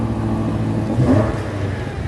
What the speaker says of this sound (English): when you go into Sport Plus, one important thing, the exhaust opens